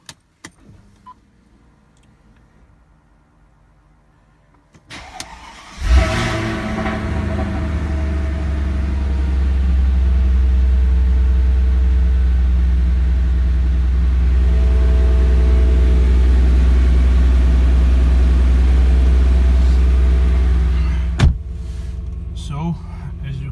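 A Mercedes M113/M119 V8 cranks and fires up after a quiet stretch, settling into a deep, steady, loud idle rumble that holds for about fifteen seconds before a sharp click and a drop in level.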